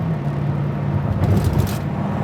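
A classic car with power steering drives over rough railroad tracks, a loud low rumble of the road and engine with a few bumpy thuds as the wheels cross, no talking.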